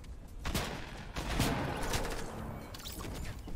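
SMG fire in Fortnite, several rapid cracking bursts mixed with other game impacts and rumbling effects, fairly close and dense, with the shots clustered early before settling into a noisy background.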